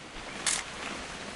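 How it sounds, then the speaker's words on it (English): Camera shutter click in the video game What Remains of Edith Finch, a single brief bright snap standing out of a quiet, hissy ambient background, with no talk. "Just want to get a shot of you, Dawn, then we can take off."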